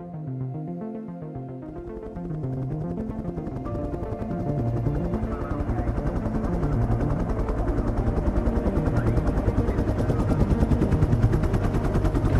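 A helicopter's rotor thuds steadily and loudly while airlifting a stranded dolphin, the rhythmic chopping growing a little stronger as it continues.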